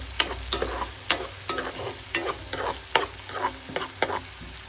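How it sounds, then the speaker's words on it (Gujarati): Tomatoes and green chillies sizzle in a pan for vegetable Maggi, stirred with about ten rhythmic spoon scrapes over a constant frying hiss, close and alone. "હવે આપણે એમાં ટમેટા એડ કરવાના છે, સાંકળી લેવાના છે"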